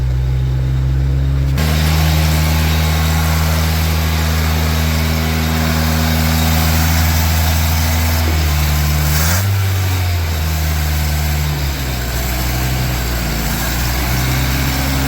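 Old vehicle engine idling just after its first start in 20 years, a loud steady mechanical hum with a brief rev and shifting pitch partway through, running alone without talk.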